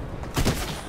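Fortnite gunfire: a single short, punchy burst of shots erupts mid-moment and then decays quickly, fairly close and loud with no voices over it.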